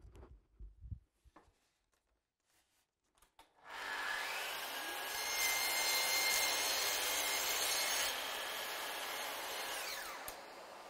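A Festool CS 50 circular saw starts and runs loud and steady through a cut for several seconds, a sustained whine with a grinding rasp, after a few quiet clicks and handling knocks.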